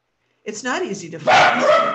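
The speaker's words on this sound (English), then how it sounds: "They're focused on barking, you guys." A pet dog barks indoors, one loud close bark bursting in after a woman's spoken sentence, with a short gap of silence at the start.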